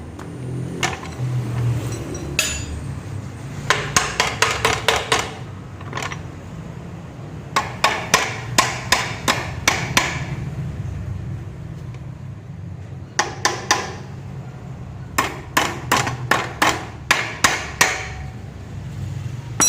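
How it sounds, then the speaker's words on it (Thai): A hammer, rubber or otherwise, strikes the stuck double-stand shaft of a Yamaha Nouvo MX motorcycle engine during teardown, landing loud, sharp blows in quick bursts of several hits separated by short pauses, with no talk. "เราใช้ค้อนยางหรือค้อนปีนค้อนอะไรก็แล้วแต่"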